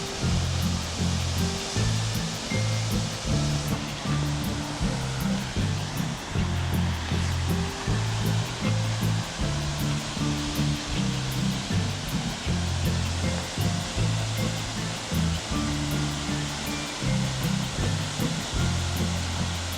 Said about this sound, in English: That is a really cool waterfall right there.